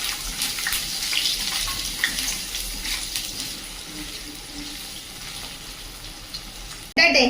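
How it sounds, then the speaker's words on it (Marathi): Boiled potatoes and green chillies frying in peanut oil in a pan, a steady soft hiss and sizzle throughout, ending with a sudden brief louder clatter. "उकडलेले बटाटे आणि दोन हिरव्या मिरच्या आहेत त्या पण आपण चांगला फ्राय करून घेऊया"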